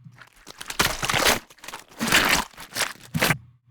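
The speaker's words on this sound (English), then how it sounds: "Then you have disembowelment and gory, wet squishes, which sounds like this." Gory, wet squishing horror sound effects for disembowelment, played as several close bursts of squelching, crunching and tearing texture with short pauses between, loud and with no voice over them.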